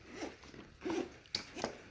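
A zipper on a pair of H&M pants is run open and shut several times in short, quiet rasping strokes, fairly close, with no talking.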